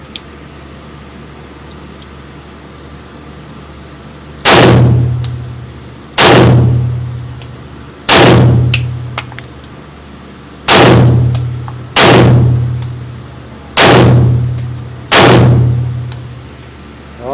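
Gunshots from a firearm at a firing range: seven loud, sharp single reports, each followed by a short ringing decay, spaced about one and a half to two seconds apart against quiet background with no talking.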